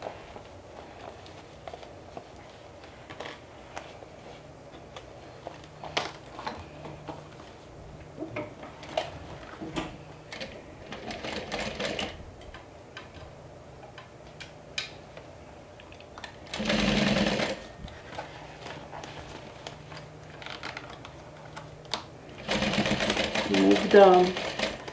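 A home sewing machine stitches bag panels and lining in a few separate runs, each a short steady whir. Between the runs there are quiet pauses with light clicks and handling noise, and a person talks now and then.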